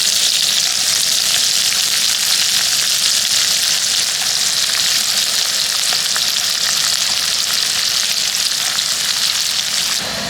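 Onions and chilli sizzle in hot oil in a pan for mutton curry, cooked outdoors in a mango orchard during the monsoon; a loud, steady, close frying hiss runs unbroken throughout with no talking.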